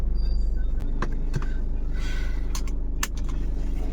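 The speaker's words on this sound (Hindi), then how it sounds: "देख रहे हैं गाड़ी बैक हो रही," Idling car engine in the background during a trip to Agra, with a steady low rumble and a few brief clicks and knocks over it, no speech.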